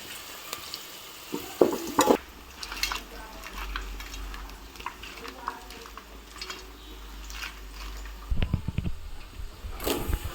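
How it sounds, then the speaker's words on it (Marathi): Onion and masala fry in hot oil for a crab curry, a steady low sizzle with occasional stirring clinks and scrapes, brief louder bursts near the start and end. "मस्तपैकी तेल गरम झालं, कांदा परतलेला आहे."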